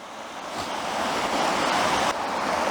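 Swollen mountain cascades roar steadily in a cold, icy landscape, a dense continuous rush of water at close range with a slight dip near the end and no voices.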